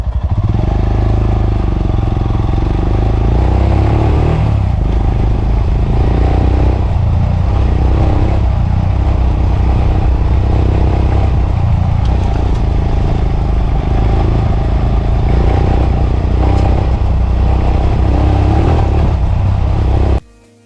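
A Royal Enfield Himalayan Scram motorcycle rides along an open road, its engine a loud, close, continuous rumble with wind roar throughout, cutting off abruptly at the end.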